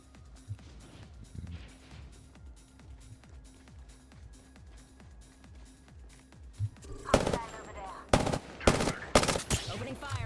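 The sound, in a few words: gunfire in video game Apex Legends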